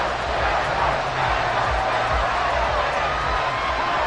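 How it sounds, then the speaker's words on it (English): Loud, steady crowd noise from a stadium in the Madden football video game, cheering and clapping that fills the whole stretch, with a low voice talking underneath. "Some applause for the defense there."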